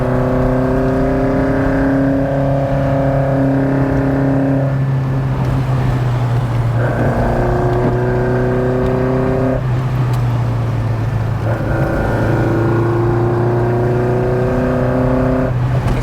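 An engine-swapped MK2 Golf GTI holds a loud, steady drone in the middle of its rev range. Its pitch steps between distinct levels in three sustained stretches with brief dips between them. No one speaks.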